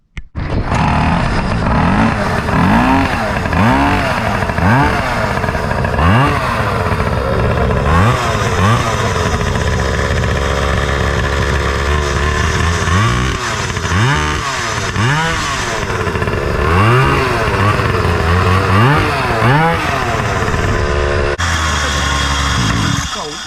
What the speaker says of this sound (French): on va faire un premier test roulage pour voir ce que ça donne.